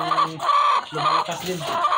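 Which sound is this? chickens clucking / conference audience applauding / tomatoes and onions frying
chickens clucking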